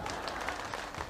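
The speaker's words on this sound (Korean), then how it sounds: "여러분들이 열정적인 박수 소리만 들어봐도" Audience applause at a Yanbian comedy sketch performance, a dense steady wash of clapping filling the whole moment without a break.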